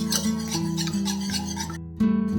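A wire whisk beats a mixture in a bowl with quick, rhythmic scraping strokes, close and steady, over a faint low hum, ending with a short pause and a louder final stroke.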